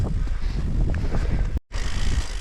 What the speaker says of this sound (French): Il y a beaucoup de vent.